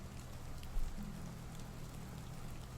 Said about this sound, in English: Yeah, it sounds like it's raining.